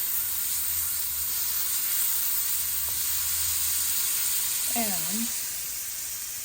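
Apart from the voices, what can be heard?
garlic sautéing in butter in a pan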